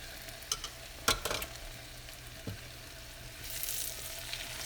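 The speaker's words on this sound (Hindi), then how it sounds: "प्याज हमारी हल्की हल्की ब्राउन हो गई है" Onions fry and brown in a covered pot for a moong and masoor lentil dal, sizzling softly with scattered sharp pops and a hissing swell near the end.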